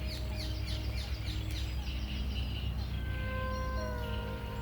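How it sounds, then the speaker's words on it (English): Birds calling and chirping beside a lake at Bentley Priory in Harrow, with short bird notes and thin tonal whistles scattered over a constant low outdoor rumble. "Bird life gathers here for the same reason people do."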